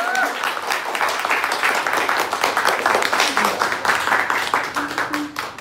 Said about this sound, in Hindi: जोरदार तालियां आज के लिए।